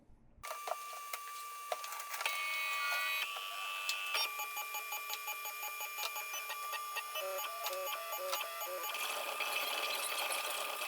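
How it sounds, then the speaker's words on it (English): A 3D printer prints a leather embossing stamp, its stepper motors whirring and chirping in busy, changing melodic tones, steady and close, starting after a moment of silence. "So I will export this and put it in the printer, and we'll see how it comes out."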